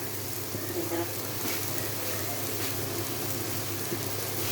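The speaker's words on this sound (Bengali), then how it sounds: "এখন বেগুনটা ঢেলে দিচ্ছি, এখন এটা নাড়া দিয়ে কষানোর জন্য" Eggplant tipped into frying spiced masala in a pan and stirred, giving a continuous close hiss of sizzling oil with faint scraping underneath.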